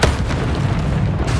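A Bombarda explosion spell in Hogwarts Legacy goes off as a dense, loud, booming blast that fills the short moment with heavy low rumble and crackle, a second burst hitting near the end, with no talking.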